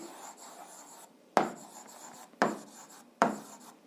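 Pen or pencil writing numbers by hand on paper, a steady close scratching rasp broken by three sharper strokes or taps, with no talking.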